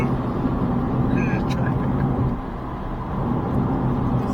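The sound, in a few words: road traffic noise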